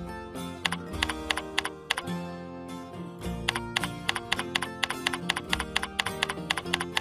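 Fingers type on a computer keyboard in quick, uneven bursts of crisp clicking keystrokes, close and distinct, with brief pauses between runs.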